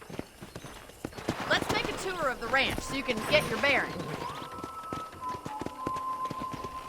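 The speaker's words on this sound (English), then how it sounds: "Okay, let's see if you can still ride a horse." Horse hooves clip-clop at a steady trot on a ranch in the video game Red Dead Redemption, fairly faint beneath someone speaking, with a brief whinny.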